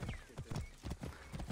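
Rhythmic clip-clop of a horse's hooves in a farming video game, a quick regular gait with a faint whinny-like tone, fairly quiet and uninterrupted by speech.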